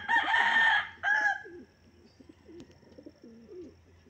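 Pigeons in a small mini loft coo in a series of low, wavering calls close by, after two loud crowing bursts at the start.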